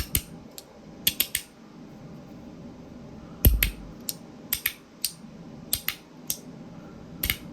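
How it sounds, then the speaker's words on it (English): A T-One Slider fidget toy gives sharp, dry plastic clicks, mostly in quick pairs and small clusters spread over the stretch, close and distinct against a quiet background. "these 2 clicks are more satisfying"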